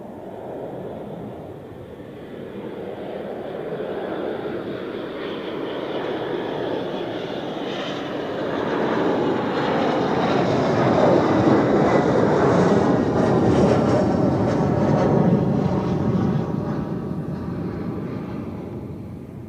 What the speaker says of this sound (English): Here we have another Helvetic Embraer as announced.